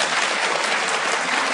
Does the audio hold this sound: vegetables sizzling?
no